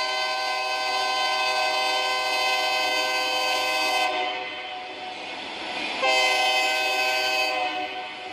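A long freight train rolls past on an elevated line, its horn sounding loud and sustained with steady chords that briefly drop away mid-pass and then return, all over a continuous rail rumble and no talk.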